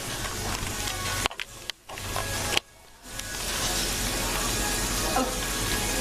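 Sausage patties fry in a pan with a dense, continuous sizzle that cuts out briefly twice before resuming steadily at close range.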